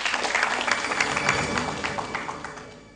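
Applause from a quiz show audience, a dense even clatter of many hands that tapers off toward the end, with no voices over it.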